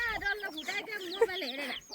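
A chicken clucks close by in a quick run of chattering, rising and falling calls that last about two seconds, with no other sounds around it.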